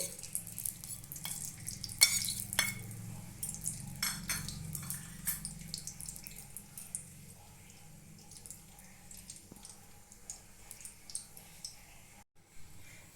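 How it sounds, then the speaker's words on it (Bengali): Ghee and white oil heating in a wok for a Bengali chicken curry, with soft sizzling, several clattering spoon and pan knocks early on, then a quieter steady fizz. "প্রথমে ঘি আর সাদা তেল দিয়ে দেবো।"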